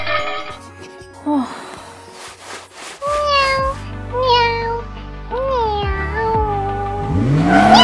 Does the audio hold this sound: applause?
no